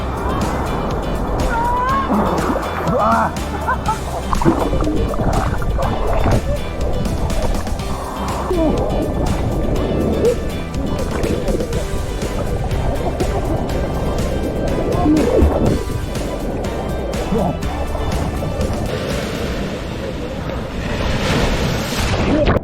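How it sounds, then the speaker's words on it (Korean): Loud, continuous roar of strong ocean waves crashing along a shore in a Colombian national park, buffeted by wind noise, with faint voices in the background. "여기 파도가 장난 아니네."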